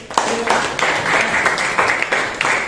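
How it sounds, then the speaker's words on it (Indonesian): A classroom applauds a student's recitation with a few seconds of mixed, uneven clapping, and speech runs under it. "Tepuk tangan dulu untuk"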